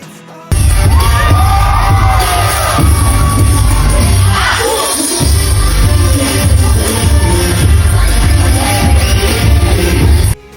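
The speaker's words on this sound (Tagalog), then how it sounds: "Sigawan ang mga audience" A studio audience at a noontime variety show during a dance performance shouts and cheers loudly and continuously, a dense wall of yells and whoops with a few bangs, close and filling the room.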